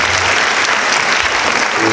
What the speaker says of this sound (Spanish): Por favor, recibamos con un fuerte aplauso al doctor Enrique.